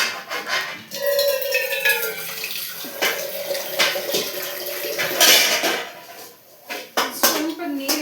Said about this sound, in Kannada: ಸ್ವಲ್ಪ ನೀರು ಇನ್ನೊಂದು ಸ್ವಲ್ಪ ಹಾಕ್ತಿದ್ದೀನಿ.